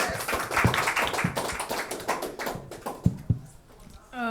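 A round of applause at a track and field media day for a meet in Nassau, a close flurry of claps and taps that thins out toward the end.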